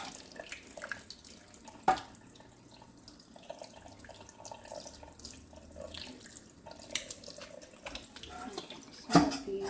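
Kitchen tap water runs steadily into a sink while pork ribs are washed, a continuous splashing flow with a few sharper knocks and clinks.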